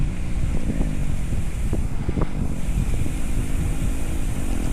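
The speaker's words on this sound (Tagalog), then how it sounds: "Ang hangin, pinadala tayo ng hangin." Wind rushing past a motorcycle rider on the road to Kaybiang Tunnel in Ternate, Cavite, a constant loud low roar of buffeting air with a few brief knocks and clicks, no talking.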